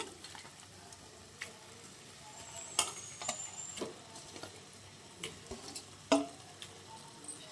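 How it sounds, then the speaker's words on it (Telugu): Chicken hits hot masala in a pan for a chicken gravy, giving a quiet, steady sizzle broken by scattered clicks and scrapes of stirring. "ఇప్పుడు చికెన్ యాడ్ చేసుకుందాము. నేను చికెన్ అయితే వేస్తున్నాను."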